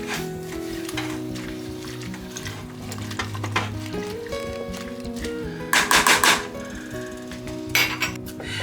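A spoon stirs salt into a metal pot of water on the stove for a kale salad, with scraping and clinking against the pot that rises into two short, louder bursts of clatter near the end.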